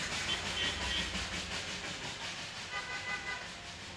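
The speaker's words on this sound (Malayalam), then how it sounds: "ആ സമയത്ത് ആ ട്രെയിൻ തിരിച്ചു കൊണ്ടുവന്ന് സ്റ്റീം വണ്ടി കേട്ടോ." Darjeeling toy train steam locomotive at Batasia Loop, heard as a steady rumble of rolling rail cars with a hissing wash of steam throughout, fairly close and continuous, with a faint high whistle-like tone early on.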